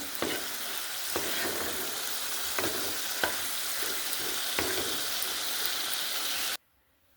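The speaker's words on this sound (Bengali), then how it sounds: "একটু কাঁচা সর্ষের তেল ওপর থেকে সরিয়ে দিলাম এবার একটু একদম মাখা মাখা মাখা মাখা করে নেবো" Crab curry in mustard oil sizzling steadily in a pan while a spoon stirs it, scraping at regular intervals. The frying sound cuts off abruptly near the end.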